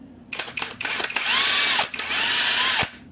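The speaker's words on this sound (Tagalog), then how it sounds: "Impact wrench." An impact wrench whirs in short bursts, then runs in two sustained high-pitched spins close by, set against workshop work on a vacuum cleaner motor.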